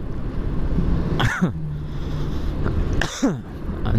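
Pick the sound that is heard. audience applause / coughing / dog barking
coughing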